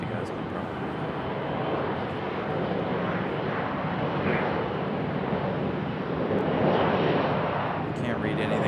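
A Delta Embraer E175 jet departing Raleigh Durham rumbles at a moderate distance, a continuous, broad engine roar that swells gently toward the end.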